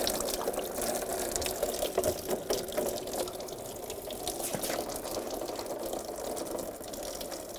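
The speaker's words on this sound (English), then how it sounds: "And drain it into a bucket." Fluid draining from a 2011–2018 Volkswagen Jetta's AC system into a bucket, a steady close splashing trickle with faint mechanical rattles, continuous throughout and without talk.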